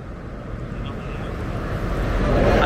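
Trucks drive past outdoors, a heavy low rumble with wind-like roar that steadily swells louder over a couple of seconds as a vehicle nears.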